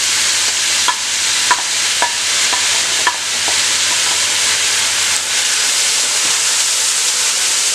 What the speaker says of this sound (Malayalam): സവാള നന്നായി വഴന്ന് വരട്ടെ